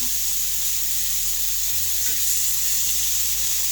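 Steady, close sizzling of ribs frying in a hot pan, a continuous crackling hiss with no talking.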